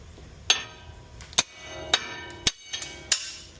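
Sharp metallic hammer strikes against a stuck wheel stud on a car hub, six or so irregularly spaced ringing blows, close and loud over a quiet background.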